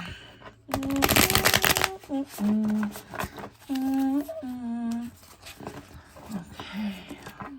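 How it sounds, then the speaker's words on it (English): A burst of tarot card shuffling, crisp and close, riffles through a stack of cards while a person speaks in short phrases before and after. "give it a few more shuffles and we can go"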